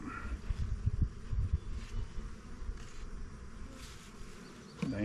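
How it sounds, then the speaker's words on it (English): Honey bees humming around small nuc hives on a poor-weather day, a faint continuous buzz with passing louder bees close by and a soft breeze underneath. "Today's not a great day to be looking at bees"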